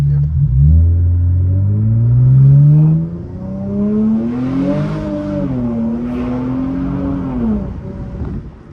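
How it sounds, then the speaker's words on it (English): Infiniti Q50 with turbos and a muffler delete revving loudly, a deep rumbling engine climbing and falling in pitch across several throttle blips, close up, with no one talking over it. "Y'all hear them turbos?"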